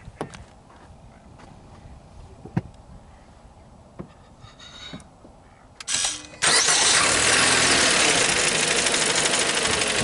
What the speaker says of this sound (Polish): Odpalę teraz silnik.